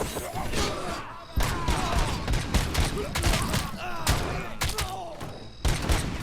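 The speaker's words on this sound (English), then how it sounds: "They're shooting each other!" Enemies trade gunfire with each other in RoboCop Rogue City, bursts of loud shots and heavy thuds coming in clusters, with brief gaps between volleys.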